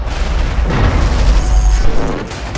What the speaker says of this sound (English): Attacking the building's support pillars at the ground level with heavy bombardment will eventually lead to the building's collapse.